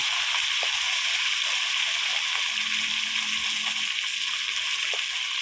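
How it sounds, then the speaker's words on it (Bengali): Pieces of large fish sizzle in hot oil while being turned in the pan, a steady loud hiss with faint crackles and no talking. "তেলের মধ্যে মাছ দিয়ে খুব সুন্দর করে উল্টে পাল্টে মাছগুলো ভেজে নেওয়া হচ্ছে"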